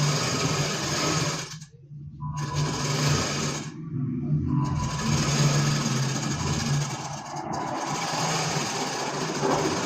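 An electric sewing machine stitches a blouse seam in a steady high whirring run, pausing briefly twice before resuming at an even pace, close up and without speech.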